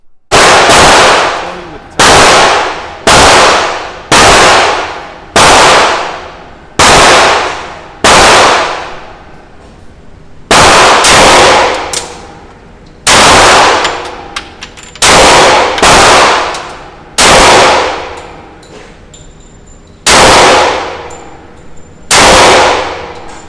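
Gunshots from a Glock 20 and a Ruger LCP 2 pistol at a shooting range: about seventeen loud, sharp single reports, spaced roughly a second or two apart, each with a ringing decay and no talk.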